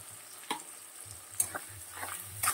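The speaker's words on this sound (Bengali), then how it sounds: "ফোড়ন দিয়ে পেঁয়াজ আর টমেটোটা ছেড়ে দিয়েছি। এটা একদম পুরো খুব ভালো করে ভেজে নেব।" Onion and tomato frying in oil tempered with black cumin seeds, a soft continuous sizzle with occasional stirring clicks and scrapes, quiet and close.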